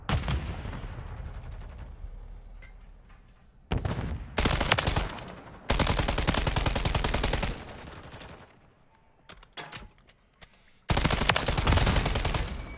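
Rapid automatic fire from a TAQ Eradicator in Modern Warfare 3 comes in several long, loud bursts separated by brief quieter gaps, close and dominant, with no talk over it.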